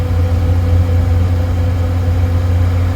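A 1972 Toyota Land Cruiser FJ55 rolls along steadily in second gear at about 25 mph on snowy roads, its engine giving a constant low drone with a steady hum throughout, with no talk.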